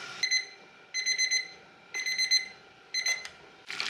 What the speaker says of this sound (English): All right, our timer is done.